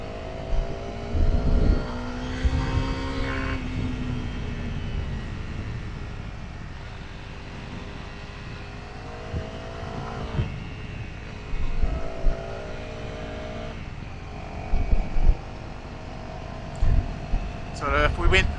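A Honda CRF250L Rally motorbike rides off road through countryside, its engine note rising and falling through gear changes in several revving surges, with a rider's voice heard at times.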